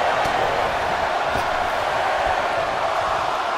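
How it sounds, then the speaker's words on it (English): A wrestling arena crowd at a Royal Rumble match roars in a dense, continuous wash of loud voices chanting a count in unison, with no pauses. "Listen to this crowd count the next one in."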